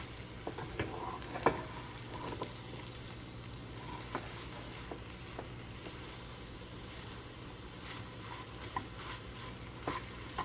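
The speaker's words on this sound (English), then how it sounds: "see me moving it around, trying to get the yolk that's not cooked yet cooked." Eggs frying in a pan while being pushed around to cook the runny yolk, a quiet steady sizzle with scattered light scrapes and taps of a utensil, no speech.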